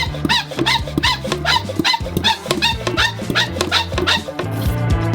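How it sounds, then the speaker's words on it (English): A pressure spray bottle is pumped full of air by hand: a rapid, regular series of squeaky pump strokes, close and clear over background music. "And pump the air, creating pressure."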